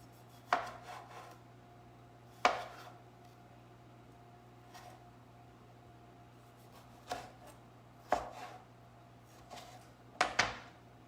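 A kitchen knife quarters cherry tomatoes on a cutting board with about six sharp, separate chops spread over several quiet seconds. Each cut sounds close but soft.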